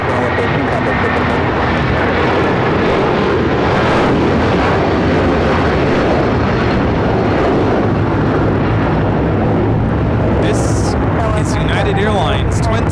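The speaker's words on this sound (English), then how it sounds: "2113 taking off to Chicago on the 757-300" A Boeing 757-300 jet, Airlines flight 2113 bound for Chicago, roars loudly on its takeoff run at LAX, a dense continuous rumble with wind buffeting the microphone and a few brief sharp noises late on.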